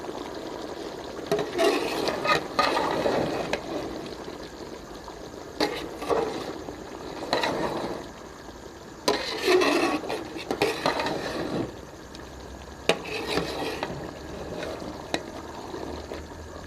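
Salt, chilli, turmeric and dried coriander being stirred into chicken shorba in a pot: intermittent bursts of spoon scraping and liquid sloshing, separated by short quiet gaps.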